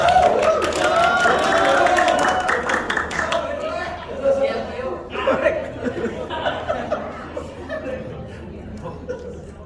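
An audience at a church Sunday service applauds for Vio, with clapping and laughter under overlapping talk at first, then thinning into scattered claps and chuckles.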